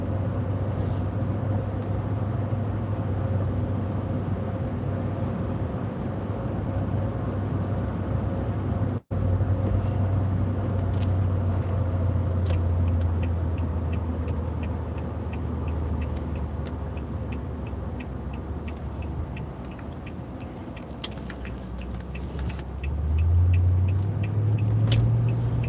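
A car engine runs loud and close by, its steady low rumble droning without pause and rising slightly near the end, with no talk over it.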